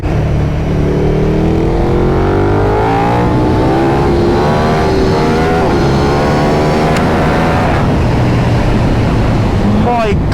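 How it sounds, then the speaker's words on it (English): A KTM 1290 Super Duke R motorcycle engine revs and pulls hard on an open road, its rising whine climbing through the gears, loud and close with steady wind rush underneath. "let's get to some more open roads and enjoy the noise of the bike a bit more"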